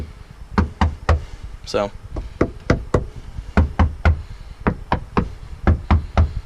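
Knocking on a car audio subwoofer enclosure: about twenty sharp knocks in an uneven, fairly steady rhythm, close and loud, with a brief voice heard partway through.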